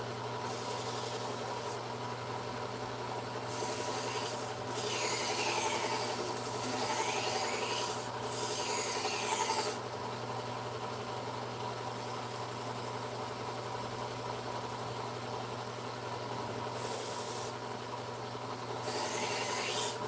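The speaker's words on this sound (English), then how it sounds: "Running the blue Scotch-Brite today." A belt grinder runs a blue Scotch-Brite belt against a knife, with a steady low motor hum and intermittent bursts of rasping, rubbing contact noise as the blade is pressed on, close and moderately loud.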